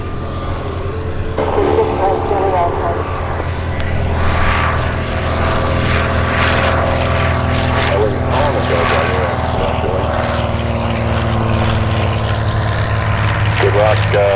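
A tail-dragger airplane arriving to land at EAA AirVenture Oshkosh 2018, its propeller engine droning loud and steady throughout, with radio-style voices talking over the engine noise.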